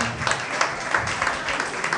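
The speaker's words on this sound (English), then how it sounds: "Let's clap, please." Audience applause at a university faculty masterclass on content creation, a steady wash of many hands clapping at moderate level for the full stretch, with no voices on top.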